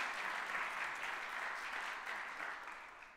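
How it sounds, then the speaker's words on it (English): Applause from a church congregation during a Sunday service, a steady, moderately distant patter of many hands clapping that fades slightly toward the end, without speech. "Give these two a round of applause"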